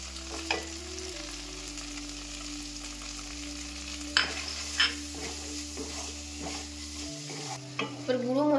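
Ginger, green chilli and ground spices sauté in oil for dal, a low sizzle under a steady hum, with scraping stir strokes and a few sharp clinks of a spoon against the pan.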